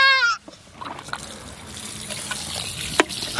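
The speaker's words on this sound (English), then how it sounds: "just turn the water on" Water runs from a backyard water baseball toy, a soft continuous gush and trickle close by. A voice sounds briefly at the start, and a small click comes near the end.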